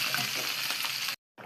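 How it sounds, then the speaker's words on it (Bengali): Tomatoes sizzle and fry loudly in a pan for a rohu fish curry, a steady close hiss that cuts off abruptly near the end before resuming briefly. "টমেটো দিয়ে দিচ্ছি, আর সাথে যে ভেজে নিচ্ছি যেন ভালো মতো সিদ্ধ হয়।"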